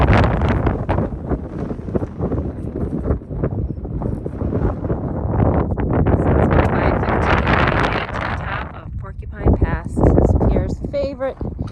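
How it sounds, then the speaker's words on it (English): Strong wind gusting across a mountain pass in the Wind River Range in fall buffets the microphone with a loud, constant low rumble and roar, with a voice talking underneath throughout. "Super windy, so you probably can't hear me"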